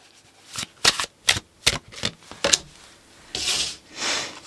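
Tarot cards are shuffled by hand in a quick run of crisp riffling snaps, about half a dozen close bursts, followed by a couple of softer sliding swishes as cards are drawn, with no voice.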